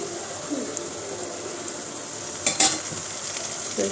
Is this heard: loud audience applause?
no